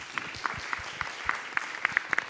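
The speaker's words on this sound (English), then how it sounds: "Colleagues, a big round of applause, please." Sparse applause from conference attendees at a forced-displacement research event: a handful of distinct, separate handclaps in an uneven rhythm, fairly quiet and close, with no voices.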